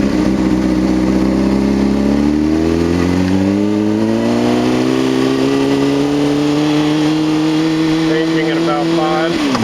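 A motorcycle engine revs up in first gear before a gear change, its pitch climbing steadily and loudly over several seconds, close to the listener.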